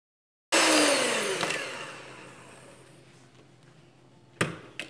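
An electric mixer beats butter with sugar for a chocolate cake frosting and filling, starting abruptly loud with a whirring drone that slowly eases and softens, then a couple of sharp clanks near the end.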